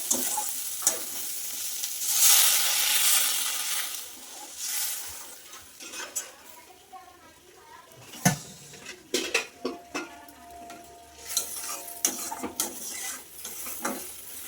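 Fried masala for a fish roe and potato curry hisses loudly in a pan as water is added, the sizzle swelling early and then giving way to irregular spoon scrapes and pan clatter in the second half.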